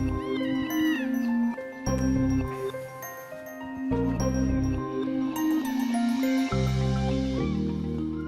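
Small cats newly arrived meow repeatedly, several close, loud cries in an irregular rhythm, with a faint tinkling in the background.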